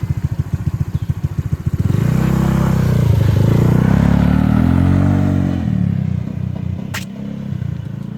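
A small-wheeled motorcycle rumbling over road bumps, starting with a fast rhythmic engine thud before settling into a loud, steady, close drone with a brief clatter near the end, and no talking.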